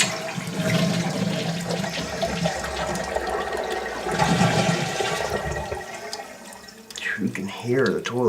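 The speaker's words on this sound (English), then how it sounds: "You can hear the toilet flush on the side where the wax ring's leaking." A toilet with a leaking wax ring being flushed, water rushing and gurgling close by, then draining and refilling with trickles toward the end, while someone talks over it.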